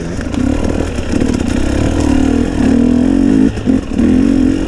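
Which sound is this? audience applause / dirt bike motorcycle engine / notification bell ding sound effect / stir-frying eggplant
dirt bike motorcycle engine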